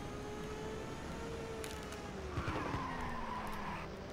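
Tires squealing in a long sliding drift in the racing game Ridge Racer 2, a steady screech that bends in pitch over continuous engine noise, with a couple of bumps midway.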